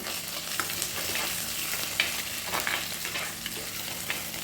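Onion, ginger and garlic sizzle steadily in hot oil in a pan, a close, continuous crackling hiss with occasional stirring scrapes and no voice.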